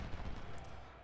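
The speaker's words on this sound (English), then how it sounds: "And we got our first shots off at them." Dense musket volley fire in the Civil War strategy game Ultimate General at Shiloh, a brief rolling crackle of many overlapping shots at moderate distance.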